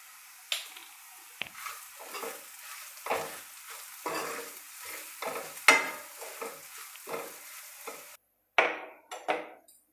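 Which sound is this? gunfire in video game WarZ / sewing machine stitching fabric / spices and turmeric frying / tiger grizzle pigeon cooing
spices and turmeric frying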